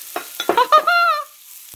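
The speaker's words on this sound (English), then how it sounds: "Check that sizzle out." Garlic and onion frying in a pan give a short burst of crackling sizzle mixed with a few stirring scrapes and squeaky tones, loud and close, with no talking.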